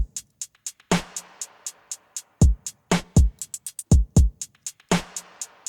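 A sparse drum beat plays alone, with crisp hi-hat ticks ticking steadily and sharper snare and clap hits landing on the off-beats, close and fairly loud.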